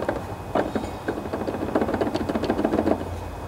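Bad spindle bearing on a John Deere LA145 mower deck clicking and grinding as the blade is wiggled back and forth: a steady run of close, dense rattling knocks over a faint background hum.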